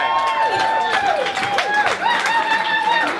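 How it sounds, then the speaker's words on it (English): Wedding guests applaud Nikki with a broad, continuous wash of clapping mixed with crowd murmur and a few cheers, steady and fairly loud throughout. "I think Nikki deserves a round of applause"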